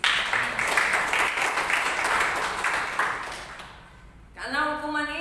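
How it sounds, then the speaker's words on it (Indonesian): A church congregation bursts into applause, a busy spread of clapping that thins out near the end as a voice starts speaking over it. "Tepuk tangan buat Tuhan Yesus."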